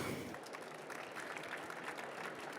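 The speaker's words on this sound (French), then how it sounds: "Je pense qu'on peut les applaudir." Audience applause for three panelists at the close of a conference session on conscious influence, a dense, steady wash of clapping from a crowd, fairly distant and soft throughout.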